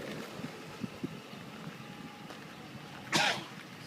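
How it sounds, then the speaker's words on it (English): A single sharp sneeze near the end, close and loud, recorded while inspecting a 2007 Ford F150 King Ranch, after a few quiet sniffs over low background noise. "Sneeze there."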